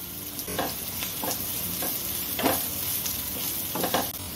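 Corn and red bell pepper sautéing over a low gas flame for a Corn 65 dish, a soft continuous sizzle broken by several distinct stirring scrapes and clinks, fairly quiet and close.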